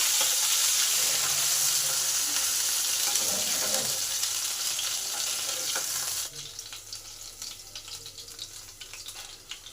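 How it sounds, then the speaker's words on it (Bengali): Steady hiss of fish frying in hot oil, loud and close, easing to a quieter crackle partway through with small pops and spatters. "দুদিকে মাছগুলো আমার গোল্ডেন কালার হয়ে ভাজা হয়ে গেছে"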